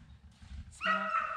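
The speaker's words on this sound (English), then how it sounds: "there goes the dogs" Hunting dogs on a South Carolina deer drive break into loud, sustained baying and barking after a quiet start, fairly close and continuous through the end.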